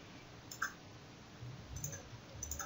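A single sharp computer mouse click while working in circuit simulation software, quiet and close, with faint room hiss around it and no talking.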